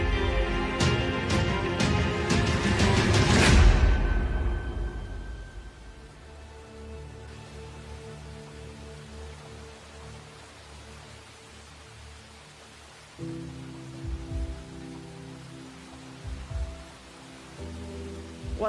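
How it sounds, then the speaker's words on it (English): Soft, steady rainfall hiss runs through the clip, preceded by a loud burst of chiming music, with low rumbling tones entering later. "keeping us on guard in the rain like this?"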